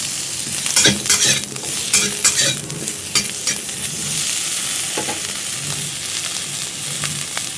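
Pieces of mango fry in a pan for a mango chutney while being stirred. A loud, steady sizzling hiss runs throughout, with clattering scrapes of the spoon bunched near the start and no talking.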